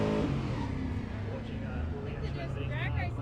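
A neon orange Ford Australia panel van rumbles and revs nearby at an all-Ford car show, engine noise steady beneath people talking.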